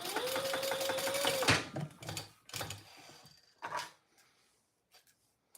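Sewing machine back stitching beside a large square metal ring hardware piece, a loud steady run for about a second and a half, then short bursts of stitching with pauses and clicks.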